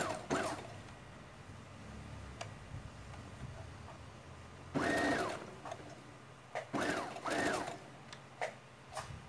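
A sewing machine backstitches a rag doll seam in short bursts of quick mechanical ticking, separated by quiet pauses with faint handling sounds. It sounds close but fairly soft.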